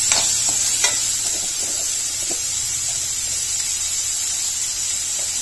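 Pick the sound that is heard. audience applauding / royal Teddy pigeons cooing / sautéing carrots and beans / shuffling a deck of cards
sautéing carrots and beans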